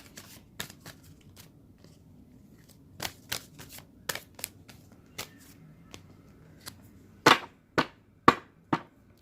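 Sharp riffling bursts of cards being shuffled, several quick crisp runs spaced apart, ending with four louder snaps close by, no talking.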